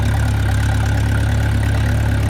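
A tractor engine idles steadily and loudly close by, a continuous low mechanical drone with no voices, out on a farm where cattle are being fed hay bales.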